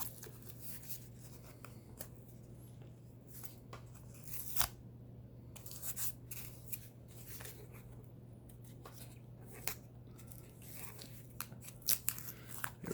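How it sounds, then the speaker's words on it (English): Packing tape tears and crinkles away from a mailed sports-card package in quick, close ripping and crunching bursts with short pauses, over a faint low hum. "let's try to get this tape off"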